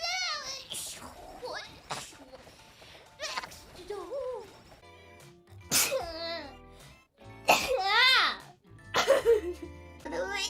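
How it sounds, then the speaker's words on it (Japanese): Sneezes from a female VTuber on a Hololive stream, several sharp bursts mixed among excited high-pitched chatter and squeaky vocal noises, close and loud. "ごめん、ちょっとくしゃみが。"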